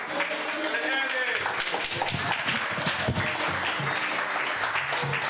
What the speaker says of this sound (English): Give one more round of applause for Mr. Eddie.